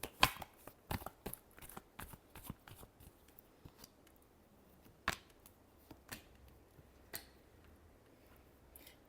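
Tarot cards shuffled by hand: quick bursts of crisp riffling clicks up front, then sparse, isolated taps and flicks in a quiet room, with no one speaking.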